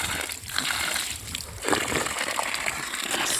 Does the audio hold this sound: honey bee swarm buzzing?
no